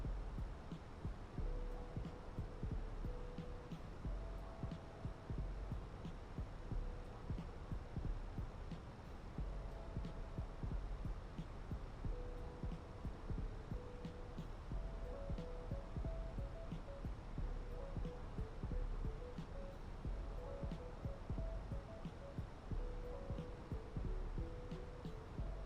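A budget air conditioning unit drones loudly and constantly nearby, with a low steady hum and a faint wavering tone over the top.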